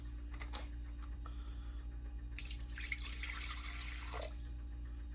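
Room-temperature water is poured into a container for pizza dough. A steady splashing trickle lasts about two seconds, with faint clinks before it and a low electrical hum underneath throughout.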